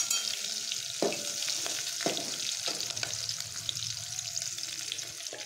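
Cumin, garlic and green chillies fry in hot oil with a continuous crackling sizzle, broken by a few louder scraping stirs near the start, no speech.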